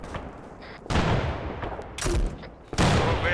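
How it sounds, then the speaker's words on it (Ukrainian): Gunfire in the military video game Arma 3: a few sharp, loud bursts of shots and booms separated by quieter stretches of background battle noise. "Хто там зараз стріляє"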